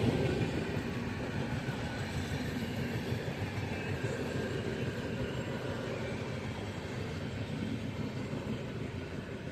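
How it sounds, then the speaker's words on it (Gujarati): A long electric train rumbling past continuously at moderate distance, a steady low roar with faint rail clatter, no voices. "ઇલેક્ટ્રિક ટ્રેન છે"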